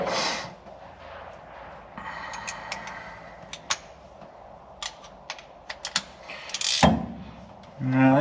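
A ratchet works slowly on the bolts of a Bedford QL truck in a workshop, giving soft clicking runs and scattered sharp metallic ticks, then a louder clank and a burst of handling noise at the end.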